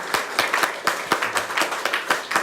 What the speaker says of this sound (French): Applaudissons au Seigneur pour le remercier son nom